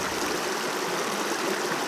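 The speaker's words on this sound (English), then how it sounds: "where the water cascades over rocks" A mountain stream cascades over rocks in a steady, close, loud rush of water with no breaks.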